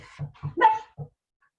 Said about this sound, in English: I knew my dog was going to bark